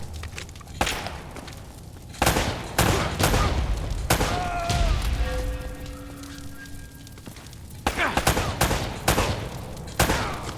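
Bursts of gunfire ring out while shooting enemies in Uncharted: Drake's Fortune, loud, sharp volleys spaced irregularly, with a quieter stretch in the middle holding faint tonal effects before the shots resume.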